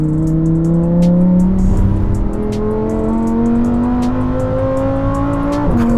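A naturally aspirated 5.2-litre V10 in a Lamborghini Huracán STO screams loudly and close, its pitch climbing smoothly through the revs with brief gear-change dips.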